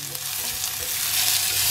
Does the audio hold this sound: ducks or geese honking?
no